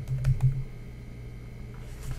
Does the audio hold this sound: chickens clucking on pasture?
no